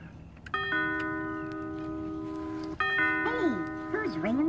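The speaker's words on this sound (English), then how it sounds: "who's ringing the bell?" A doorbell-like chime, triggered by a button on a candy cane machine, sounds with steady sustained tones, then rings again twice with wavering pitch, fairly loud and close over a low background hum.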